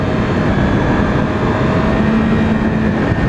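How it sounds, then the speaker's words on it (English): Loud, steady engine drone from a 2016 Yamaha R6 motorcycle being revved fills the whole stretch, a constant rumble with a slight rising whine near the end, no voices. "You'll hear me like revving it before the clutch actually disengages"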